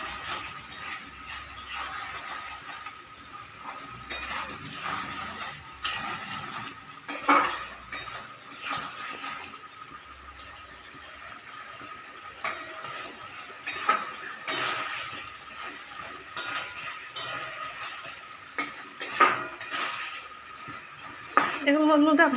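Eggplant is stirred with mustard in a pan, and a utensil scrapes and clinks against the cookware in irregular strokes. Faint sizzling sits underneath, and a person talks intermittently throughout.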